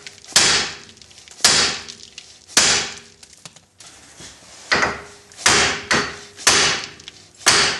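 Heavy hammer blows strike a Mitsubishi Eclipse lower lateral control arm, producing about eight sharp metallic bangs spaced roughly a second apart, each ringing briefly before decaying into a quiet background.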